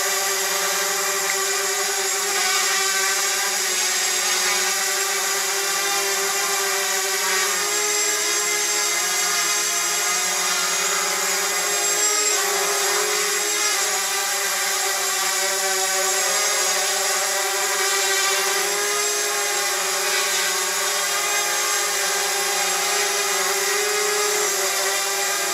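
A Flying3d X6 six-rotor multirotor drone hovers with low battery voltage, giving a steady, loud buzzing whine that holds almost unchanged throughout, with slight wavers in pitch and no voices.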